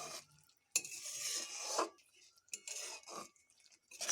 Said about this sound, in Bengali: হালকা একটু মশলাটাকে কষিয়ে নেব